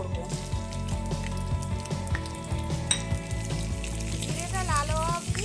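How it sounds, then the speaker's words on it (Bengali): Slit green chillies and whole cumin sizzle in hot oil as the tempering is stirred, a loud steady frying hiss with spatula scrapes and a faint voice in the background. "এবার এই তেলের মধ্যেই আমি ফোড়ন দিয়ে দেব দুটো চেরা কাঁচা লঙ্কা আর গোটা জিরে দিয়ে একটু ফোড়নটা নাড়াচাড়া করব"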